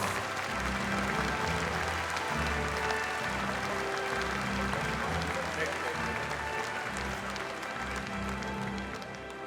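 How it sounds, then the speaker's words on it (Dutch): Audience applause fills a hall at a Dutch breeder of the year award ceremony, a broad continuous clatter of hands under background music and a voice speaking. "Uw applaus voor Gabrielle van Tilborg"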